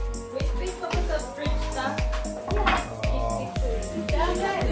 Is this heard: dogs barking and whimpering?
yes